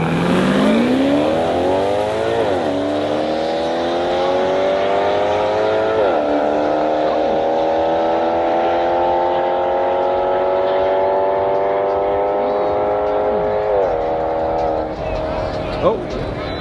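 Race cars roar past on a track at Stuntfest, engines rising in pitch through several gear shifts in a long, loud, sustained drone, with a voice briefly audible underneath.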